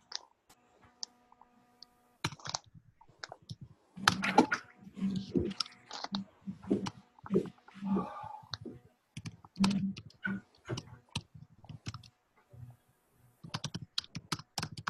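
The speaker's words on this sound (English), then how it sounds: "everyone should put in the chat now and type that in" Fingers tap computer keyboards as people write messages into a webinar chat, a scattered run of clicks and keystrokes under brief bits of talk.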